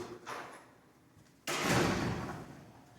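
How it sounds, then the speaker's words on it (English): A door pushed shut in a lecture room, giving one sharp broadband thud near the middle that rings on briefly, after a quieter rustle. "Close the door."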